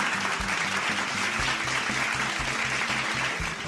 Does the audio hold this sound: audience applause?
yes